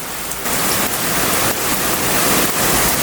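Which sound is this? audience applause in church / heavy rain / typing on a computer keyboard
heavy rain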